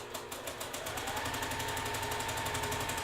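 A sewing machine stitching quilt block seams runs steadily at close range, its needle hammering in a fast, even rhythm with no pauses.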